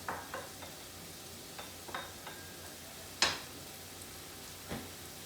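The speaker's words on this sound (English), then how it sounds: "So I'm going to stir the parsley and the onions, the green onions, until they get a little soft." Parsley and green onions being stirred in a pan, with a few soft scrapes and taps of the utensil, one sharper clack, over a quiet, faint sizzle.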